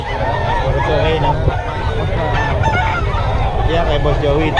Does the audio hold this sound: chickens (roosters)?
yes